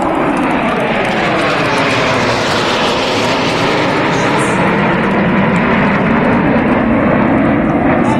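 Indian Air Force Jaguar and MiG-29 jets fly past in formation at an air display, producing a loud, continuous roar that holds steady throughout.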